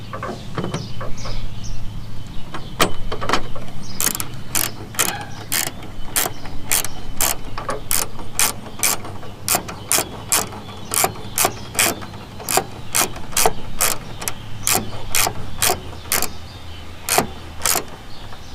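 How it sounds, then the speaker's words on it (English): A ratchet tightening a tailgate lock bolt on a second-generation Toyota Tacoma, a steady series of sharp close clicks at a regular rhythm over faint background noise. "we'll finish it off with the ratchet"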